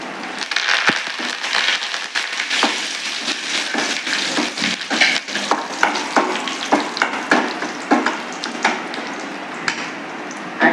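Curry leaves hit hot oil for a Tirunelveli urundai kuzhambu tempering, bursting into a loud, dense crackling sizzle with sharp pops that continues unbroken and close up, with no one talking.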